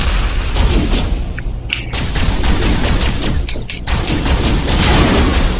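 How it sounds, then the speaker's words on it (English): Mass Effect gunfire aimed at a wall: loud, continuous rapid shots with booming impacts, dense and unbroken across the whole span, no voices over it. "You're shooting a wall."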